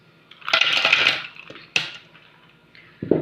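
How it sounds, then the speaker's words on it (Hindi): Ice cubes dropped into a peach shake being made, a burst of clattering and clinking near the start, then a couple of sharp single knocks, close and loud, with no talking. "और ये हम डालेंगे आइस क्यूब्स"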